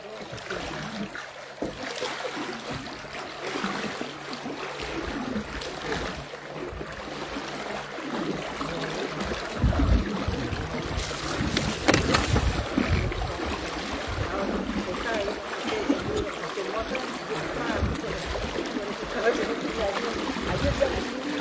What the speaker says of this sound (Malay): Kereta masuk air.